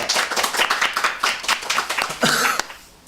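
An audience at a book author's lecture claps in a brisk burst of applause, close and lively, swelling briefly and then tapering off after about three seconds.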